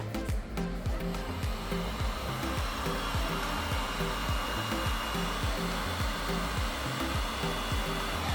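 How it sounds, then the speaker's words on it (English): A DeWalt heat gun set to 500 Celsius blows hard and continuously over epoxy resin in a dirty pour art piece, with a close, steady roar of rushing air and fan hum. "So I'm using my DeWalt heat gun on 500 Celsius."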